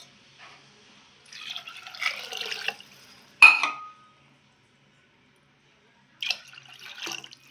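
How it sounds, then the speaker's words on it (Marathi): Water poured from a vessel into a pot of toor dal with salt, turmeric and oil comes in short splashy bursts separated by pauses, close by, with a sharp metallic clink between pours. "आणि आपण पाणी टाकूया."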